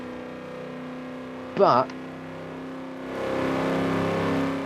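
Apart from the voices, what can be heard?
sports car engine revving in Forza Horizon 4 video game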